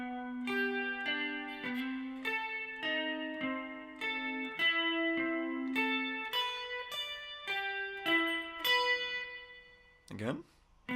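Guitar plays the first two bars of the chorus: clean plucked single notes and a descending line in steady rhythm, fairly quiet and close, ending with a brief scrape.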